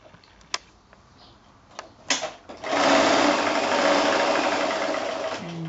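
A sewing machine stitches quilt squares onto a fabric strip, starting after a few clicks and handling noises and then running in a steady, close, even whir to the end.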